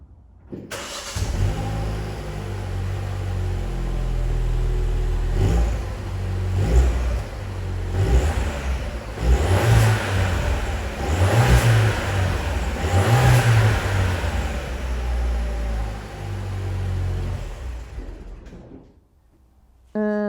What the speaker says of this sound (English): Next up on the score sheet is the exhaust sound